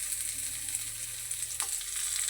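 A whole onion fries in hot mustard oil with cumin and dried chili, giving a close, steady sizzling hiss that runs evenly before cutting off abruptly, with no talk.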